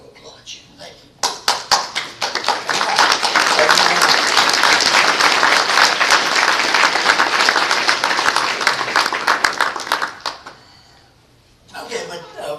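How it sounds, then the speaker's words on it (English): Applause from a Linux conference keynote audience: scattered claps build quickly into a loud, dense ovation that holds for several seconds, then fades to quiet before a few claps and some chuckling return. "And I want to applaud you."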